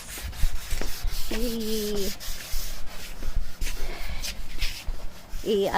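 Steady scratchy rubbing of sandpaper on wood, repeated strokes up close, with a couple of brief tonal squeaks in between.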